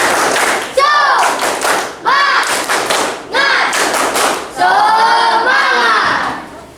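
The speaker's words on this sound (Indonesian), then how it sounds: "Beri tepuk semangat." Rhythmic group clapping in a classroom, beaten in unison as a cheer in several bursts with brief gaps, mixed with shouting children's voices.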